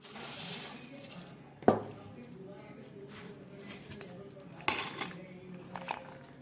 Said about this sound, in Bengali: এবারে আমতেল দেওয়া মুড়িটাকে খুব ভালো করে মিশিয়ে নিলাম।